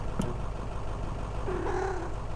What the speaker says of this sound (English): Big fan of the bus cat.